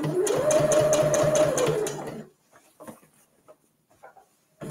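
Sewing machine running a topstitching seam along the lined edge of a fabric gift bag, a rapid rhythmic chatter for about two seconds before it stops, leaving soft handling noises close by.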